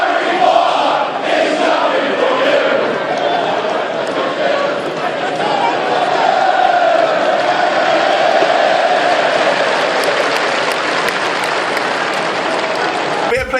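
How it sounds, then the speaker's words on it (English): A football stadium crowd chants and roars at a player, a loud, dense mass of voices sustained throughout with rising cheers toward the end. "he's getting football chants sang at him"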